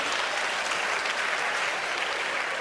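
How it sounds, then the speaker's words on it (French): Sustained applause from a comedy gala audience, dense and steady throughout, with no voices over it. "La moitié du monde applaudit"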